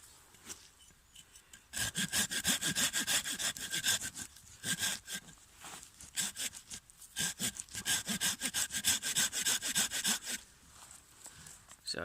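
Hand saw cutting a stop cut around a small piece of natural wood for a mallet, with rapid rhythmic rasping strokes in bursts and short pauses between them, heard close and fairly loud.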